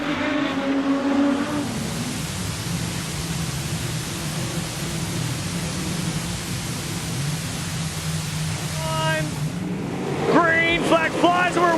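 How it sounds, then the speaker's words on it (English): Modified sedan race cars roaring around the dirt oval at Carina Speedway, a broad steady engine wash with crowd-like noise, a commentator talking over it at the start and again near the end. "Flag flies her away, and it's going to be Jordan getting the jump on the outside"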